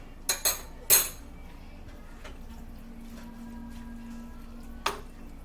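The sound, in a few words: stirring spices into rigatoni sauce in a pot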